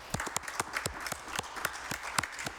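An audience applauds staff at a school committee meeting with scattered, sharp hand claps in an irregular rhythm, fairly faint and heard from a distance without cheering voices.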